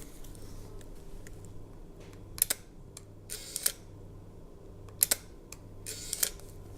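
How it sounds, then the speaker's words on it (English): Leica M9 rangefinder camera shutter firing at 1/250, a series of crisp close clicks, some in quick pairs, over a faint quiet background. "And LEICA M9 at 250 sounds like this."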